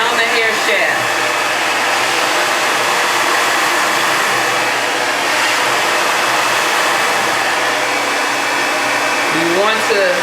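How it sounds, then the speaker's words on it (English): Hair dryer blowing steadily at close range for the whole stretch, a loud continuous airflow roar while a brush guides it down the hair shaft, with brief faint sounds near the start and end. "You want to take your brush, okay, and you're going to blow it down the hair shaft."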